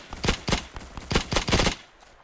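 .50 caliber machine gun fire in Hell Let Loose, a loud close burst of about eight heavy rounds in quick rhythm, with a brief pause midway, then fading to a low tail.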